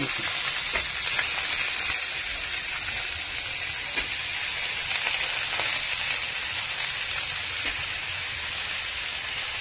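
Brinjal pieces fry with softened onion in hot oil in a pan, giving a steady dense sizzle with faint scraping as they are stirred, close and continuous throughout.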